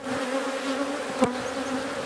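Honeybees buzz in a dense, steady hum during a beehive inspection ahead of splitting the hives, with a brief sharp knock near the middle; close and moderately quiet.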